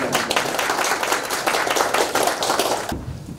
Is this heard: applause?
yes